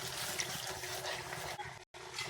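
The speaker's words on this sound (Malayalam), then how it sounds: "മിക്സി ജാറ് കഴുകിയ വെള്ളം ഒഴിക്കുന്നു." Water used to rinse a mixer jar pours steadily into a pan of chana masala, with a soft, continuous splashing hiss, breaking off briefly near the end.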